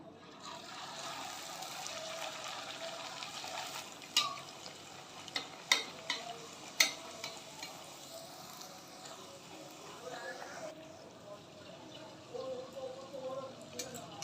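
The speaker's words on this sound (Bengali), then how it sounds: "আর একটাও ভেজে নিচ্ছি।" A jackfruit kachori deep frying in oil, a soft steady bubbling sizzle with several sharp clicks and knocks of a utensil partway through.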